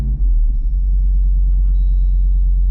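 The 392 V8 in a 2023 Jeep Wrangler runs with a loud, deep, steady low rumble close by, with no voices.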